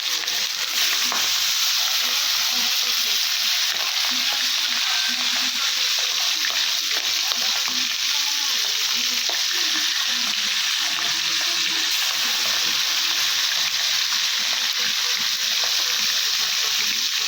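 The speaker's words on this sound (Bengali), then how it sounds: "তেল গরম হয়ে গেছে, একটা একটা করে মাছ ছেড়ে দেবো" Pabda fish fry in hot oil in a pan, a loud, dense, continuous sizzle running steadily throughout with faint stirring, no talk.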